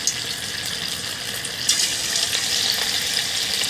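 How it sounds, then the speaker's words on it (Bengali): Cabbage fritters frying in hot oil in a wok give a steady, close bubbling sizzle throughout, with a brief louder crackle partway as more batter goes in; no one speaks. "এখন আমি বাঁধাকপির বড়াগুলো নিজের মতো সাইজ করে ছাড়ছি"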